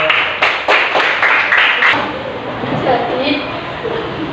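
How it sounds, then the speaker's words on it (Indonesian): Several sharp claps ring out in a classroom in the first two seconds, then fade into a murmur of room noise and voices. "Ya, tepuk tangan dulu."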